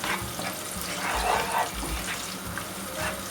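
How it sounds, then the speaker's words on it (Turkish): Grated erişte noodles sizzle and crackle in a hot pan, with a steady frying hiss and occasional stirring scrapes close by. "Kavuralım."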